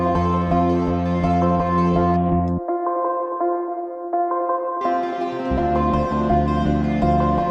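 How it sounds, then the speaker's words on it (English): A space and time pluck synth preset from a sample pack, played as a loud, bright pluck sequence in repeating rhythmic notes, alone, dropping to a thin higher phrase midway before the full low-rich pattern returns. "We have this space and time pluck that again is out of the pack"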